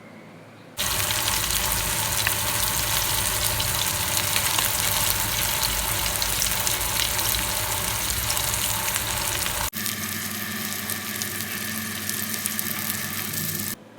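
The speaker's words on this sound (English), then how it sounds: "this side I'm just going to let it fry for another 7 to 8 minutes, so that it will be completely cooked" Fish frying in a pan: a loud, steady broadband sizzle runs without pause from start to finish, with a slight shift in tone near the end and no voices.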